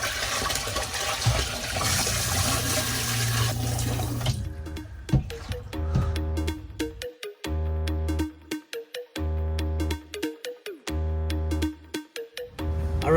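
Water and ice poured into a Winnebago Travato RV toilet: a long loud rushing gush for about four seconds, then repeated clattering, splashing pours in bursts with brief gaps.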